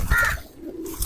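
A single pigeon gives a brief, soft coo close by, with no voices.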